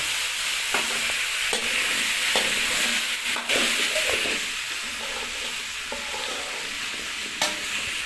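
Potatoes fry with tomato in a pan, sizzling steadily while a spoon scrapes and stirs in irregular strokes, close and continuous with no talking.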